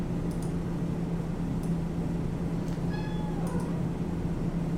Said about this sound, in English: You have a question, Kitty?